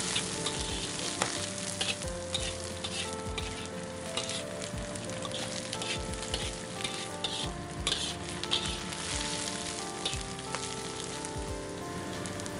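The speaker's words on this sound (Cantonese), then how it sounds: "繼續翻炒" Dried scallops and other ingredients being stir-fried in a wok for turnip cake, with a steady loud sizzle and repeated scraping and clinking of the spatula against the metal throughout.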